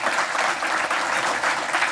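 A dense, steady round of applause fills a county commission meeting honoring the graduating class of 2026, many hands clapping evenly throughout without pause.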